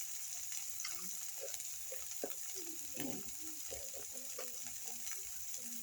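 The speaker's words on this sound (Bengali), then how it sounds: "মশলাটা কিছুক্ষণ ভাজতে থাকছি" Masala spices sizzle and fry in a hot pan, a soft, steady crackle broken by scattered scraping stirs, quiet and close, with no voices.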